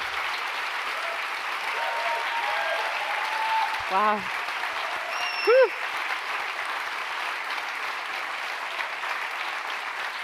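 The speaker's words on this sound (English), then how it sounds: "So please give a big applause for AC Coppens." Closing-session audience gives a stage host a long, steady round of applause, dense clapping throughout with a couple of whooping voices cheering over it midway.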